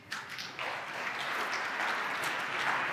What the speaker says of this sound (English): Don't applaud.